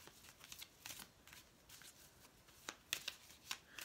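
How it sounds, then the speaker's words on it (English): Crystal Medicine Oracle cards are shuffled by hand, making quiet papery riffles and flicks in quick uneven bursts, close and soft with no talking. "Let's see how these guys shuffle. They shuffle very nicely."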